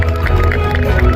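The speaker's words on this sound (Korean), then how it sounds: "최근까지 서울에서 108배 투쟁으로 정말 고생 많으신 강우철 본부장님께 다시 한번 힘찬 박수 부탁드립니다." Crowd at an outdoor street rally clapping together, a loud dense roar of hands and voices with a low rumbling background, brief and continuous throughout.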